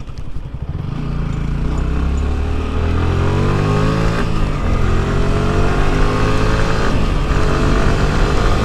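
Motorcycle ridden on a road near a stadium, its engine droning steadily and loudly throughout with rising and falling pitch, wind rush mixed in, no talk.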